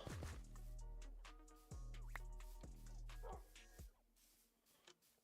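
Wolves in Minecraft let out a series of clear, tonal barks and yips at close range, spaced a second or so apart and then fading toward the end.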